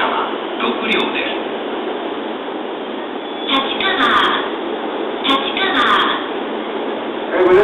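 A six-car Chuo Line 115-series electric train running from Tachikawa toward Kofu, heard from on board: a steady rumble, a continuous band of rolling noise with faint rhythmic clicks, while station announcements and voices sound over it.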